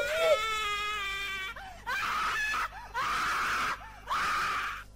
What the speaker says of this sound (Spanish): ¿Y ese grito?